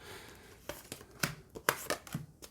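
Tarot cards being shuffled by hand, a series of short papery riffles and soft slaps spaced irregularly, quiet and close with no talking.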